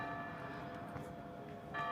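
Church bells ring out at noon in an Italian town, a dense, steady peal of overlapping tones that carries on without pause, loud and fairly close.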